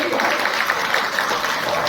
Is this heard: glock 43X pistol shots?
no